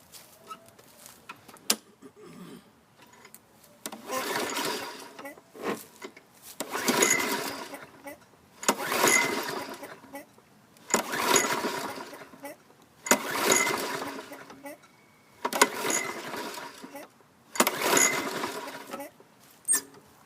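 Repeated pull-start attempts on a 2013 Craftsman self-propelled lawn mower engine with a suspected carburetor fault: about seven separate whirring cranking bursts in a steady rhythm, none catching, moderately loud and close.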